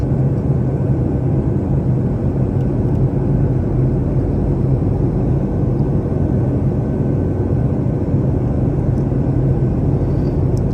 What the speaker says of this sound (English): As the aircraft is just preparing for landing.